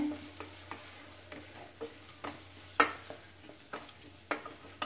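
Chili powder stirred into hot oil in a pan for a quick chicken curry, soft scraping strokes at a steady rhythm with occasional sharper clinks of the spoon over a faint sizzle.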